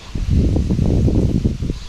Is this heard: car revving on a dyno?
no